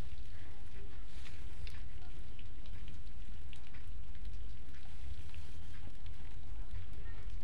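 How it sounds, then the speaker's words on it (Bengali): Cashews and raisins fry in a pan of hot oil for chicken pulao, giving off a dense, continuous crackling sizzle that stays steady and close throughout. "কিশমিশ আর যে এই কাজুগুলো ভেজে নেব।"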